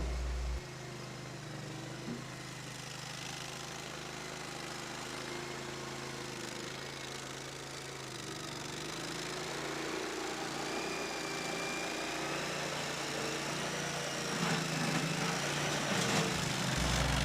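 Diesel engine of a 225 loader running steadily while the arms lift a load, a constant droning rumble with a mechanical whine that grows slightly louder toward the end.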